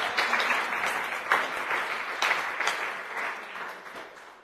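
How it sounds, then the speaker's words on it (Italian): A church congregation applauds during an Italian sermon, a steady, full wash of many hands clapping together that holds for several seconds and then starts to thin out at the end. "Diamo un applauso a Gesù."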